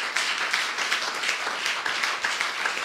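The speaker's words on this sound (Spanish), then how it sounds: "Denle un aplauso al Señor." A church congregation gives applause to the Lord during a Spanish-language sermon, dense steady clapping from many hands filling the room for a few seconds.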